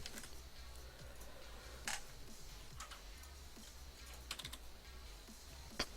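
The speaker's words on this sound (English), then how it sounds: "this is the keyboard" Steady typing on a computer keyboard, with irregular light clicks and a few sharper key strikes close up in a quiet room during game development work.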